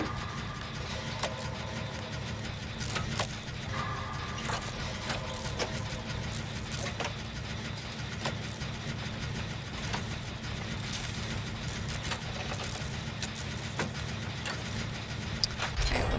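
Steady mechanical whirring and clanking of a generator being repaired in the Dead by Daylight survival horror game, a continuous low engine drone with faint ticking and clicks running throughout at an even level.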